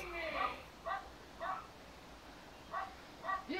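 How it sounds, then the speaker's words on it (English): Dogs bark in short repeated bursts in the background, about five separate yaps spaced irregularly over a quiet room tone, faint and somewhat distant. "if you guys can hear the dogs in the background,"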